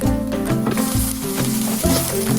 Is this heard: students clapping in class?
no